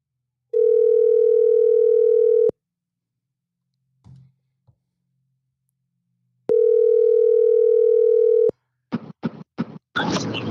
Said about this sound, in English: I'm dialing you.